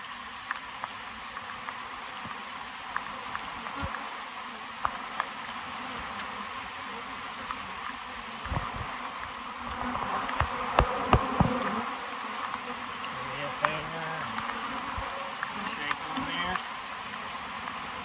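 Honey bees buzz thickly around hive boxes while two nucs are combined by shaking and vacuuming bees into a box; the dense, steady drone swells midway, with scattered thumps and handling clatter.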